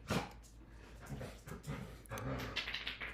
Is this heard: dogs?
yes